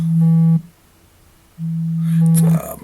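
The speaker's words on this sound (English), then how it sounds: "Sorry, my phone is going off and I thought I had it on silent." A mobile phone rings with two loud, steady electronic tones, each lasting about half a second, separated by a short gap and followed by a rustle as it is handled.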